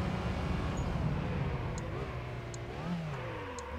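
An old 2-liter 8-valve car engine in Gran Turismo 3 drones and climbs in pitch as it accelerates, with rising and dipping tones as the gears shift and a few faint ticks on top.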